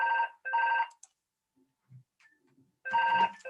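A telephone rings in two quick bursts, pauses through near silence with a few faint thumps, then rings again in another burst, loud and close in a quiet room during a technical presentation on wellbore quality.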